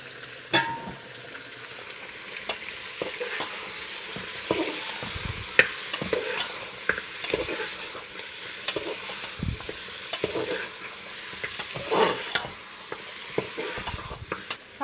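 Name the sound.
meat frying in ghee being stirred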